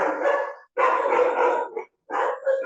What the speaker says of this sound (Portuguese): Ó, meus cachorros aqui.